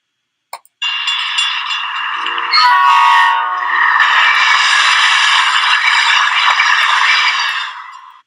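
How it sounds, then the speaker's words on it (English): A train passes close by, a loud rattling roar of cars with horn-like tonal blasts that swell and sustain before fading at the end, with no talking. "This is back of the train."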